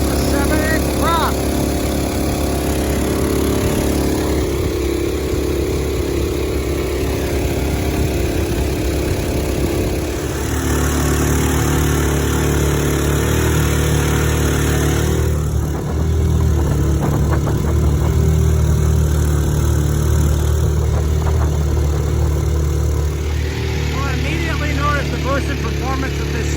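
A 6.5hp 212 longtail boat motor fitted with a 7-inch standard prop runs steadily at speed on the water, a loud, close, constant droning engine note with slight shifts in pitch throughout.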